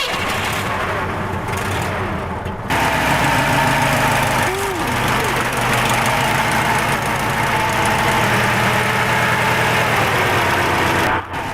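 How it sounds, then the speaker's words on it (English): An air-cooled V4 engine in an SUV runs at a steady, loud idle close by, with a throbbing, slightly knocking rhythm that continues unbroken throughout. "I could listen to this sound all the time because, hey, it's an air-cooled V4."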